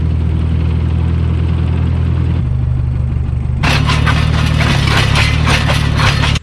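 A heavy tractor engine rumbles steadily up close in rocky ground, then grows louder and rougher partway through with scraping, clattering noise before cutting off.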